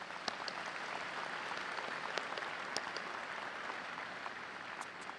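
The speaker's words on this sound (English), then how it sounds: "Let's give these individuals a round of applause." Steady applause from a commencement audience at Bowling Green State University's summer graduation, a dense continuous patter of many hands with no voices.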